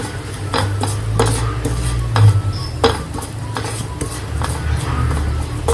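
A spoon scrapes and clanks around a pan as chili powder is stirred into paneer masala, repeated loud metallic strokes over a low, steady sizzle, close up.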